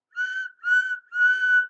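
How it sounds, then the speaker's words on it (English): Three cheerful toots from Henry the Green Engine's steam whistle, each a clear, steady tone a fraction of a second long, separated by brief gaps and heard alone. "Hello, he whistled cheerfully."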